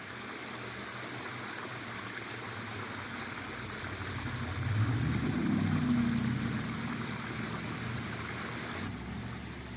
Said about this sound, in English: you could stand on the edge and look straight down to the creek